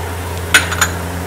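A utensil stirs salt into potato coriander chutney cooking in a pan with ghee, giving two or three light metallic clinks over a low, steady background hum.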